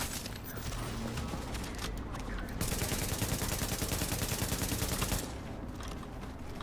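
A PP-19 submachine gun fires in a video game, long rapid bursts of crackling automatic shots with a dense middle stretch, loud and close, with mechanical clicks between bursts.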